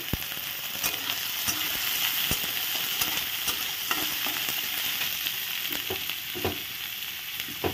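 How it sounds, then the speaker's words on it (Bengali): Chopped onion frying in a pan with black cumin and green chilies, giving a steady dense sizzle throughout, with scattered sharp crackles and occasional soft stirring taps. "পেঁয়াজ কুচিটা ভালো করে ভেজে নেব"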